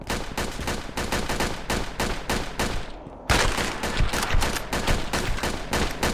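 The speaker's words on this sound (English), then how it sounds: "good thing I still got this rifle" Rifle fire in the video game Red Alliance: loud, rapid, continuous bursts of shots with a brief lull near the middle before the volley resumes.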